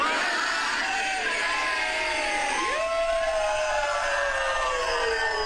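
A crowd at a stand-up comedy gig cheers and whoops, heard as played back from a phone video, with a steady dense roar of shouts and yells throughout and some whistling tones rising above.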